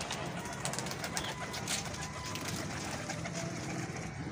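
Pigeons coo on a rooftop, their soft calls half buried in a dense, constant outdoor noise that stays steady throughout.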